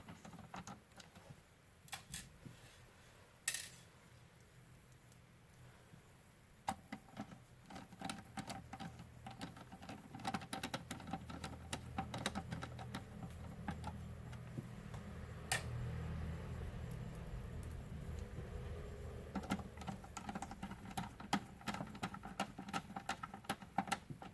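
A screwdriver fitted with a 00 bit drives four small cover screws, making faint, irregular light ticks and clicks against a quiet background.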